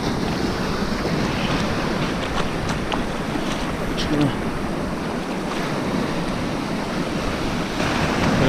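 Ocean waves break and wash onto the shore at night at Pevensey Bay, a continuous close surf roar mixed with wind buffeting the microphone, with faint voices at times.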